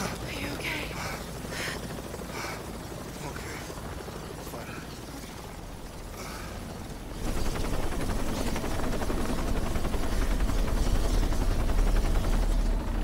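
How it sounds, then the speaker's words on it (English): A helicopter in the video game Shadow of the Tomb Raider, a continuous rotor drone and mechanical rumble that grows louder and heavier partway through, with game action noise mixed in. "Oh, brutal, thrown out of that chopper."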